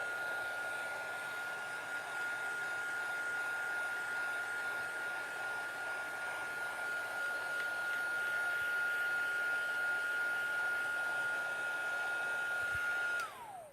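A heat tool blows steadily for about thirteen seconds with a whining tone, drying Pearl Shimmer Mist sprayed over a craft card for a Halloween masking project, then cuts off and winds down.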